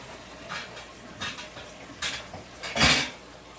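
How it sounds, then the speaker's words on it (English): Boiled potatoes drained from a pot give several short clanking and splashing bursts, metal lid and pot knocking, growing louder toward the end, close and with no talking. "I'm going to drain my potatoes."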